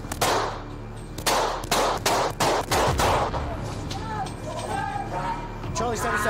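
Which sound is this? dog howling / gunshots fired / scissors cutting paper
gunshots fired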